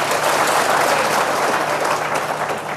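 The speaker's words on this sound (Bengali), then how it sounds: "চমৎকার একটি ডকুমেন্টারির জন্য একটি করতালি হতে পারে না?" Studio audience at a televised Rangpur City Corporation election debate applauding, a dense, loud, continuous burst of clapping throughout.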